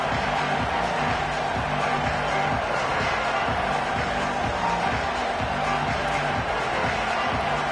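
Stadium crowd noise in an NCAA Football video game fills the clip as a constant dense roar of cheering fans at a high-elevation home venue, steady and loud without pauses.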